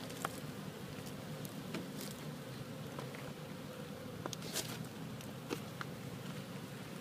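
A steady, dense buzzing of many honey bees fills an opened hive during an inspection after overwintering, with occasional soft clicks and rustles close by.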